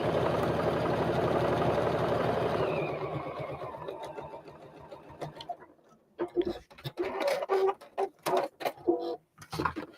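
A sewing machine runs for about three seconds, a steady close mechanical whir while fabric is sewn along a creased line, then stops. Scattered handling noises and a voice follow.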